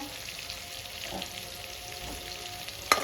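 Onion, cinnamon and bay leaf fry in a pan over a full gas flame, a steady soft sizzle running throughout with a sharp clink near the end.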